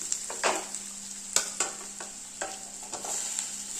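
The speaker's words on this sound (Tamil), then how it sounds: "கொஞ்சம் நல்லா சுருண்டு வர்ற அளவுக்கு வதக்கிக்கோங்க." Onions and tomatoes sizzle steadily in a pan for tomato chutney, with a spoon scraping and stirring in a few distinct strokes over the frying.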